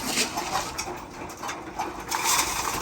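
Pigeons cooing around a feeding spot at their third feeding of the day, soft repeated coos over a steady rustling background, moderately close with no talk.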